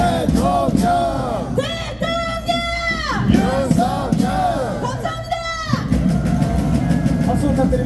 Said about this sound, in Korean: 윤석열 크게 다시 한번 외치고 가십시오.